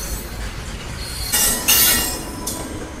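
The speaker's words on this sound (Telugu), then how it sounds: "Secunderabad Guntur intercity express train." Secunderabad Guntur Intercity Express passing at close range with a steady rumble of wheels on rails, broken by loud bursts of high wheel squeal, without speech.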